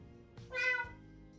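A small wounded kitten lets out a single clear, drawn-out meow, close and fairly soft, in an otherwise quiet indoor setting.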